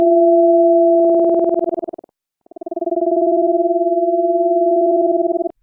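Granulated DTMF telephone keypad tones in Ableton Live, shaped into a riser: two steady pure tones that swell, cut out briefly, then return and sustain, loud and clean with no talking.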